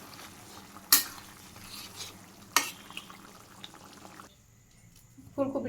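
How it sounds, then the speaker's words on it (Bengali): A spoon stirs a Bangladeshi vegetable curry with cumin and garam masala in a pan, giving a soft steady scraping sizzle marked by two sharp metallic knocks, close by and alone. "জিরা গরম মশলা দিয়ে মিশিয়ে নামিয়ে নিব"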